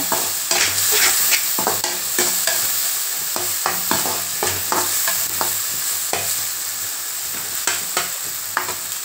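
Tomatoes sauté with chili powder in a hot pan under a steady, bright sizzle, while repeated spatula scrapes and taps punctuate it at close range.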